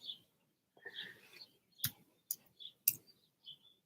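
Typing on a computer keyboard while entering a flight search, a few close, sharp, irregular key clicks over roughly four seconds in an otherwise quiet room.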